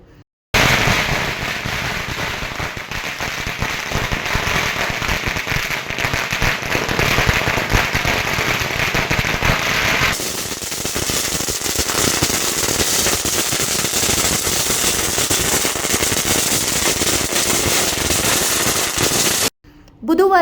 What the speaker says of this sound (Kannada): ಅಭಿಮಾನಿಗಳು ಪಟಾಕಿ ಸಿಡಿಸಿ